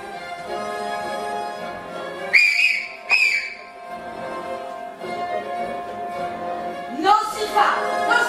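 A person whistles two short, sharp bursts close by, then a rising, swooping whistle, with quieter background sound between the whistles.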